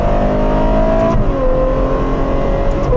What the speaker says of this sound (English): it drops down every gear basically as soon as it can while you're braking